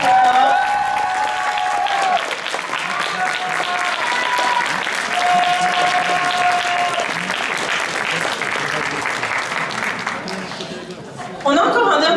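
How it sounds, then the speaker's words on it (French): Audience at a cosplay contest awards ceremony clapping loudly and steadily for several seconds, with a voice talking over it and the applause thinning toward the end. "On peut l'applaudir très fort."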